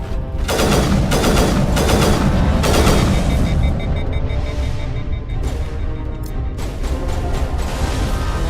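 Heavy weapon fire while shooting turrets in Mass Effect, a dense, loud barrage of repeated blasts and booms with a constant roar of combat underneath and no pause.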